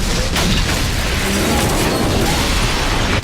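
A loud, dense explosion roar from a practical helicopter blast on the ground fills the whole clip, a sustained rumbling blast with crackling debris and no pauses.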